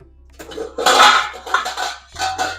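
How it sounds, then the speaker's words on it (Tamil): A metal cooking pot of sambar is scraped and clanked as it is moved onto another stove burner, giving several close, loud metallic scrapes and knocks. "ஸ்லோ பண்ணிட்டு இதை அடுத்த பர்னருக்கு மாற்றிக்கங்க"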